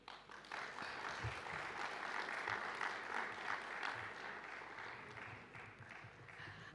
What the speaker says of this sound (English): let us then come together and give these students a round of applause for taking this bold leap